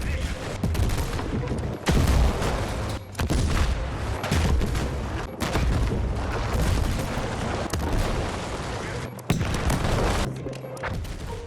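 A Battlefield 6 map being wrecked with C4: roughly continuous, loud rolling blasts and crashing debris, broken by brief drops to near quiet, with repeated heavy bursts one after another.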